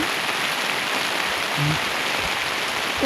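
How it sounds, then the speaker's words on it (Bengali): Steady, heavy rain falls on an open rooftop, a broad unbroken wash of hiss close by, with a brief low tonal blip midway and no voices. "কি বৃষ্টি হচ্ছে, জোরে বৃষ্টি হচ্ছে"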